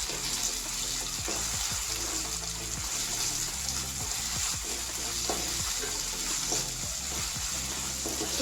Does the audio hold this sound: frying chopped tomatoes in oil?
yes